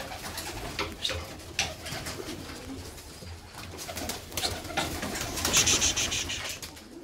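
Pigeons cooing around a dovecote beside a garden, soft repeated low coos with scattered chirps and fluttering, fairly quiet and close, with occasional faint background noise.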